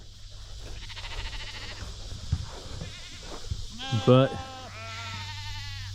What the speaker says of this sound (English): the sheep, they're over here grazing